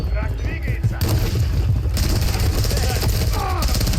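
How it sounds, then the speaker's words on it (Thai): Explosions and gunfire in the 2023 Modern Warfare 3 shooter, loud booms over dense, continuous battle noise with a broadband blast burst around the two-second mark, while a voice talks over the action. "ระเบิด"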